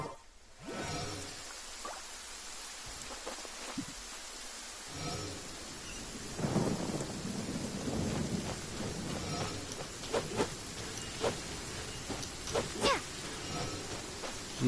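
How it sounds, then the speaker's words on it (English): A thunderstorm in the video game Genshin Impact: a broad wash of rain noise carrying low rumbling thunder and a few sharper crackling bursts, moderately loud with no talking. "Jeez, it's a storm out here."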